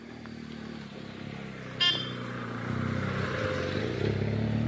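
A motorcycle engine runs with a steady low hum on a forest trail ride, joined by a brief sharp burst partway through and a slightly louder drone afterward.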